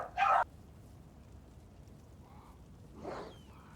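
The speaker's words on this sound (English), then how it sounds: "Sorry about the dog, still start barking in a second." A dog gives one sharp, close bark, then quieter whimpering yips follow after a pause, with a hushed background in between.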